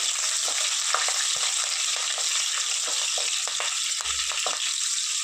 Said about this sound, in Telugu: ఒక 3 పచ్చిమిరపకాయ ఇట్లా కట్ చేసి వేసుకున్నాము